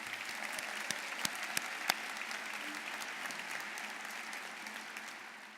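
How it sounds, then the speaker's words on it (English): Applause from an audience at the Prosper Lincoln event for the Southeast School Step Chain group, a steady dense wash of clapping with a few sharper individual claps standing out, sustained throughout. "let's give the Southeast School Step Chain group another round of applause"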